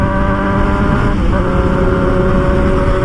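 A steady motorcycle engine hums at constant revs, loud and close, with a slight dip in pitch partway through as if easing off.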